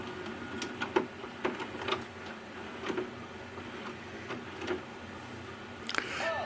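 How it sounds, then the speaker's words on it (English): A Magnavox DV200MW8 VCR/DVD combo with a faulty eject pulls a VHS tape back inside, making irregular mechanical clicks and ticks over a low motor whir, ending in a brief louder clatter. "it won't eject. And then it sucks the tape back down in and plays again"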